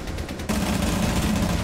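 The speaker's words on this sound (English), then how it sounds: "Shoot that kid through the wall." Gunfire shot through a wall in the Rainbow Six video game, a dense burst that starts abruptly partway through and runs steady and loud to the end.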